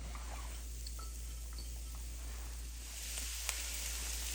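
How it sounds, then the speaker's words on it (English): Onions sweating in blended oil in a nonstick pan over medium heat, a faint, steady low sizzle with a few small pops and crackles, quiet and continuous. "preheat a nonstick pan over medium heat and add some blended oil and sweat our onions"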